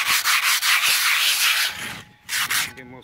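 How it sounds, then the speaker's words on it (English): Coarse 100 grit sandpaper scrubs rust off the metal of a BBQ pit smoker in steady, close back-and-forth strokes, with a brief pause near the end before a few final passes. "Use some of that 100 grit sandpaper."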